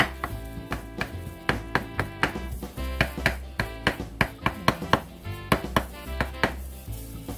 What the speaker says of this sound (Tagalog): finely chop